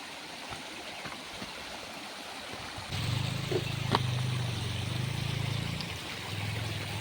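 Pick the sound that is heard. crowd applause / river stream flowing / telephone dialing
river stream flowing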